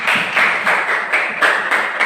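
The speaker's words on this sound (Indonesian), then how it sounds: "Kita beri aplaus yang meriah untuk dia." A classroom group claps for a student group after their presentation, a steady, fairly loud patter of many hands in quick rhythm with no talking.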